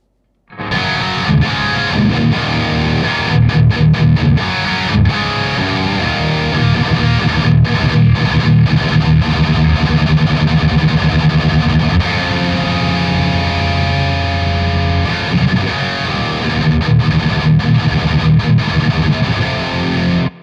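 Dense, heavily distorted electric guitar chugging through a boosted Nano Cortex capture of a Nitro amp, loud and continuous with thick low end, the input clipping, and no talking.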